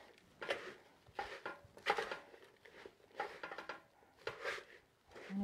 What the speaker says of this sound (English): So just give this a mix or stir.